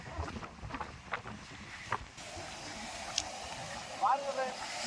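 Strong wind at the seashore on a rainy day, a steady rushing roar with gusty swells throughout, while a person talks over it.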